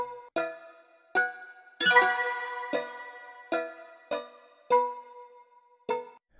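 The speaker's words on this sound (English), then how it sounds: "The original Serum patch just sounds like this." An original Serum synth patch, dry, plays a sequence of short plucked notes at a steady pace with one brighter, longer-ringing hit, moderately quiet and alone.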